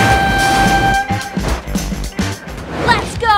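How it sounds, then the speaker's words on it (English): A train rumbles past close by with a loud horn blast, over a dense, continuous roar that rises and falls across a few seconds, with excited voices shouting nearby. "Oh my god, train!"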